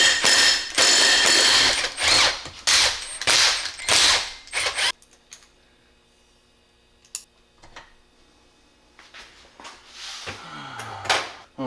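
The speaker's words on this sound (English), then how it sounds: "we can start pulling our screws out, get our end plates off" Screws are removed from the end plates of an 8V71 blower during a rebuild. Close, loud ratcheting and clicking comes in quick bursts, then a quiet stretch with occasional taps, and a voice is heard near the end.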